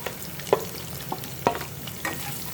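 Capsicum cut into triangles and tomatoes being sautéed for chilli paneer, with a steady low sizzle broken by a few sharp spatula scrapes against the pan, close and fairly loud.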